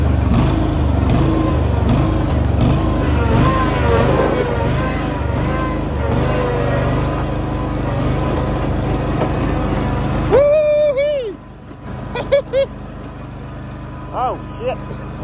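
A budget Toyota Cressida fitted with an LS1 V8 revs hard and loud for about ten seconds, rising and falling, then cuts to a quieter idle with a few short blips and voices.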